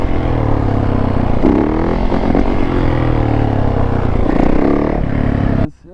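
A 750cc sport motorcycle being ridden, its engine droning loud and steady with rising and falling revs and clattering road noise throughout, cutting off abruptly near the end.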